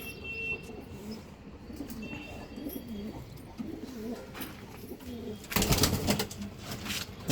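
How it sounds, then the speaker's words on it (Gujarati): Pigeons cooing inside a loft, soft repeated low coos at a moderate distance, with a burst of wing flutter or rustling near the end. "તમે જોઈ શકો છો કબૂતર રમે છે।"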